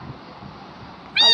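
A cat meows loudly and briefly at the very end in a video game where many cats have appeared, after a quiet, low background bed.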